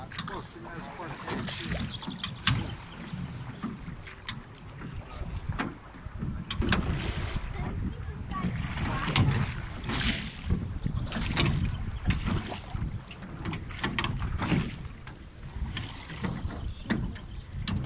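Boats carrying many people move on Lacul Roșu, a mountain lake, with water sloshing and a muffled engine-like rumble. Gusts of wind buffet the microphone, and people talk throughout.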